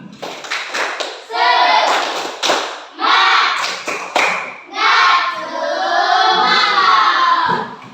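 A classroom group bursts into rhythmic claps and thumps in quick, close bursts, mixed with loud children's voices chanting along throughout.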